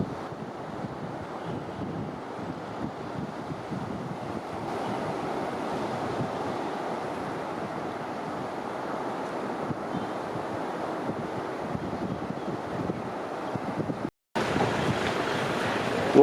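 Rough sea surf breaking at Jomtien beach, a steady broadband wash of waves mixed with wind buffeting on the microphone, continuous and fairly even throughout, with a brief dropout near the end.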